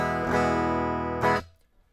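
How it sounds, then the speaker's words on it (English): A clean, unprocessed direct signal from an electric guitar through an Axe-Fx used as a DI box, with two plucked chords sustaining bright and dry before being cut off, leaving near silence. "I'm just taking a direct signal from the guitar"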